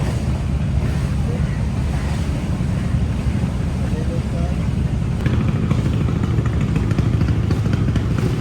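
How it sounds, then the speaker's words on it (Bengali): A trawler speeding along a rough river, its engine droning steadily under heavy wind buffeting the microphone and the rush of water, loud and continuous throughout, with voices partly mixed in. "একটা ট্রলার নিয়ে ছুটে চললাম নদীর বুক ছিঁড়ে"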